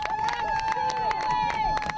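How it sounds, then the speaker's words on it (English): A crowd cheering at a high school lacrosse game between Lake Orion and Bloomfield Hills, a steady roar of voices and applause with a loud whistle-like tone through it. "You can hear the crowd."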